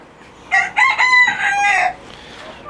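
A rooster crows once, close and loud, a full drawn-out call with a quiet outdoor background.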